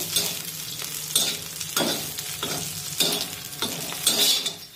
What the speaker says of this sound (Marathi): मिरची आपल्याला चांगली भाजून घ्यायची